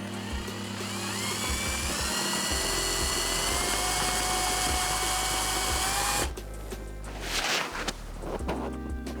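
A power drill whines steadily for about six seconds while drilling into a wall, loud and close, with harmonic motor tones, then stops and leaves scraping and rustling behind.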